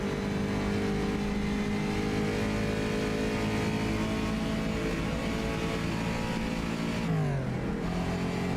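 Simulated race car engine in a 1954-era sim racing game at Spa, screaming at steady high revs, then surging sharply as a missed gear shift over-revs it before settling lower; loud, continuous and alone.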